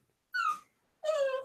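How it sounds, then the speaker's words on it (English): A dog whines twice in close succession, each a short, high, tonal whimper with a falling pitch and a pause between them, fairly near and with no talk over it. "fucking dog whining."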